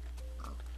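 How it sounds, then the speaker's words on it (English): A Minecraft pig gives a single short oink, close and fairly clear over a low steady background hum. "Pigs."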